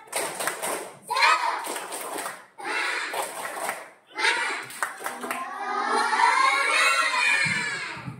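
Classroom children clapping a rhythmic group cheer in bursts, mixed with their excited voices and shouting, ending in a cheer.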